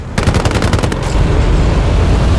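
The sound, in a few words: gunfire in the video game Battlefield Play4Free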